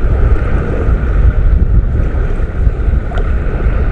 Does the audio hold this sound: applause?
no